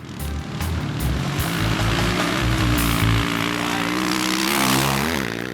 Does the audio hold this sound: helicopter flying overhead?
yes